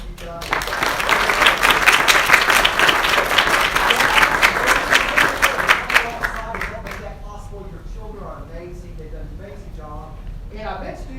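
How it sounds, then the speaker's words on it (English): Loud audience applause after a student performance of Shakespeare's Henry V, dense clapping for about six seconds that thins out, followed by someone speaking. "you deserve a round of applause for the hard work you've done"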